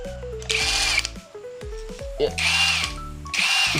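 A 20-volt cordless 1,350 Nm impact wrench running on its low setting, with loud close bursts of rapid hammering rattle that stop and restart several times, each start and stop marked by a whining motor.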